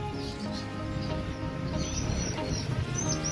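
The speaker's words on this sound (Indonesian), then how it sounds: "Penampakan burung japati rumahan," Domestic pigeons cooing softly at close range in a low, steady murmur, with faint chirps and light background noise and no voices.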